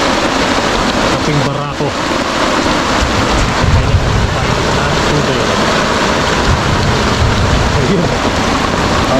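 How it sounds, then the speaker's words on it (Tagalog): Heavy rain pours down in a forest during fishing, a loud dense hiss of downpour with low rumbling, while someone speaks briefly over it. "Ayun o, lakas pa rin po ng ulan."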